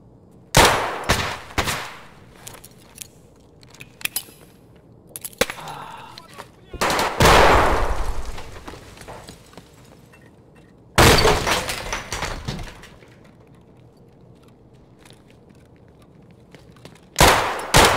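Video game gunfire comes in bursts of rapid automatic shots and single cracks, loud and close, separated by quieter gaps with faint background game noise.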